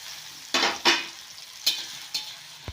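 Tomatoes and coriander stems fry lightly in a pan with a low continuous sizzle, while a spoon makes several distinct scraping stirs through them. Nobody speaks.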